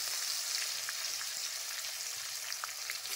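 Chopped onions sizzling in hot oil in a pan while cooking a mutton dish, a continuous bright crackling hiss with small pops and occasional stirring, close and steady with no talk.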